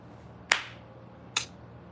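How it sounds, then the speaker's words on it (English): Two sharp, separate claps from a small group, close and fairly quiet, nearly a second apart against a soft, hushed background. "We all clap in 3"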